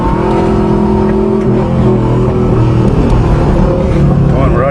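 A Subaru boxer engine idles roughly on a cold start and revs, producing a loud, close, throbbing rumble that stays heavy and continuous with slight rises in pitch.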